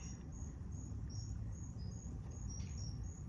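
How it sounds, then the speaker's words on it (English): Crickets and other insects chirp steadily outdoors at night, forming a dense, continuous high trill with faint overlapping pulses over a low, even background hum. "the crickets"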